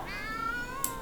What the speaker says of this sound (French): Ouf, les chats qui miaulent en cœur.